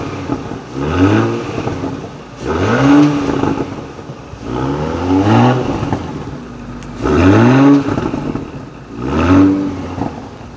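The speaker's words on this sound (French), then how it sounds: "de dehors on entend ce magnifique V6" A Porsche Cayenne hybrid's V6 revs repeatedly, heard from outside the car. The engine note rises and falls in about five even bursts, each climbing sharply before it settles back toward idle.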